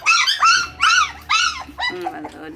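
Young puppies that are just starting on milk mixed with puppy food give a series of close, high whiny yips and whimpers. Four rising cries are followed by a lower, softer whine.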